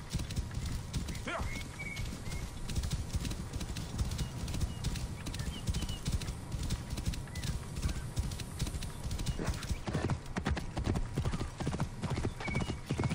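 Continuous rapid hoofbeats of a galloping horse clatter throughout, with a couple of brief whinny-like calls mixed in, from the video game Assassin's Creed Origins.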